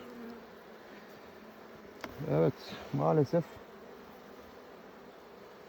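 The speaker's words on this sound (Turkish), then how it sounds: "arılarımız bu arılar sert hareketlerden hiç hoşlanmıyorlar" Honey bees hum in a soft, continuous drone at an open hive during beekeeping, while a voice speaks briefly twice in the middle.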